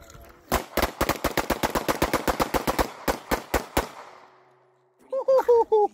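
Glock pistols, a Glock 26 and a 19X, firing at a shooting range: a rapid string of about twenty sharp, close shots, then a few spaced shots before stopping, followed by a brief burst of music.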